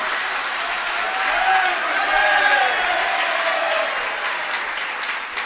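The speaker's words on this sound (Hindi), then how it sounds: "आपने ताली बजा दी, हमने मना किया था।" An audience at a spiritual discourse claps together in a dense, steady burst that swells slightly and holds for several seconds, with no voice over it.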